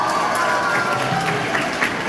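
A seminar audience at a personal development training program in Butwal, Nepal claps together, a dense continuous wash of applause with crowd noise for a couple of seconds.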